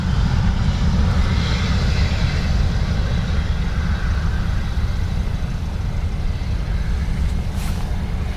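Turkish Airlines airliner arriving at Dublin Airport, a steady loud low jet roar that holds constant throughout with no talk over it.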